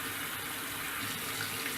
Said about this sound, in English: So I gotta keep rinsing and swishing.